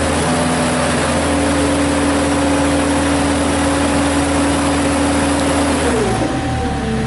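A PowerBoss Nautilus floor scrubber runs in full sweep scrub mode, its steady loud motor whine and hum droning without pause, with a slight drop in pitch near the end.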